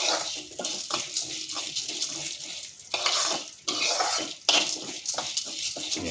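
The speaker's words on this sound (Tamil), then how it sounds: "அதில் இப்போ துவரம்பருப்பு போட்டு அதை வறுக்கிறாங்க." Toor dal roasting in hot oil in a pan gives a soft crackling sizzle, broken by repeated scraping and stirring strokes against the metal at a close, moderate level.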